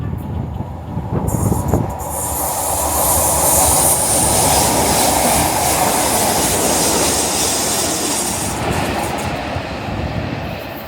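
A Rail Adventure consist of two Class 43 HSTs and two Class 20 diesel locomotives roars past close by, a loud rumble of engines and rolling wheels that swells quickly and holds before easing off.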